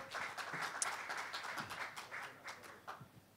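Faint audience applause for an agriculture minister at a 2023 agricultural committee report event, a brief patter of many hands clapping heard at a distance.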